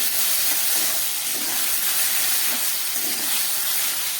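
Cauliflower frying in a pan gives a steady, loud broadband hiss throughout, with faint low bubbling pops and no voices.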